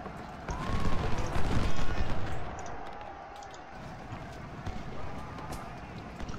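A rumbling thunder of galloping cavalry hooves swells in the middle, with distant booms and battle noise around it, in the video game Ultimate General: Civil War.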